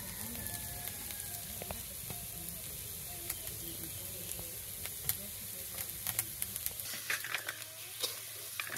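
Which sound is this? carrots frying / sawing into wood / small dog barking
carrots frying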